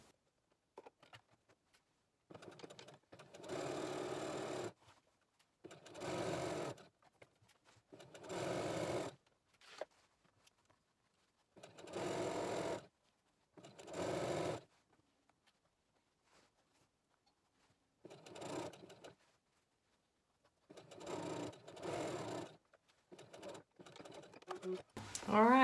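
A sewing machine stitches all the way around a fabric tube for an infinity scarf, running in repeated bursts of a few seconds each with short quiet pauses between them, close and fairly loud.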